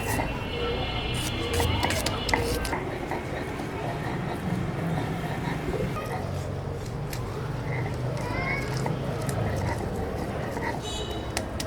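A knife chops onions for a village-style dry fish and winter vegetable dish. There are repeated sharp knocks against a board over a busy background, with voices murmuring underneath.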